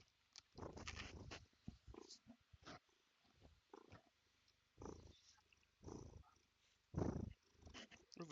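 A cat purring close by in irregular bursts while a person talks over a League of Legends game.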